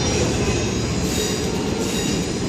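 A train rumbles past close by, a steady, loud roar of rail noise with faint wheel squeal throughout.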